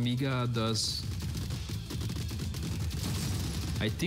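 Robots focus-firing weapons together in the video game Gladiabots, a dense rattling burst of rapid shots under a player's talk and voice at the start.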